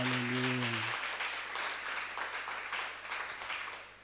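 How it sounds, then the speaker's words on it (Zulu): A church congregation breaks into applause after a brief held tone, a soft, steady spread of many hands clapping that carries on at a modest distance. "egameni likaJesu Kristu ngicela simuphe ihlombe"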